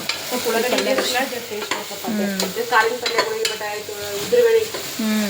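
Two large chopped onions frying in a pan for a North Karnataka-style sprouted-bean palya, a steady sizzle with scraping stir strokes, while a tonal hum runs throughout and brief bits of voice appear.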